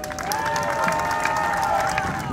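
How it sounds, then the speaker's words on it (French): Crowd cheering at an industrial production launch ceremony, a steady wash of excited voices and shouts with whistle-like tones running through it for the whole stretch. "c'est sous les acclamations frénétiques de personnes présentes à ces lancements"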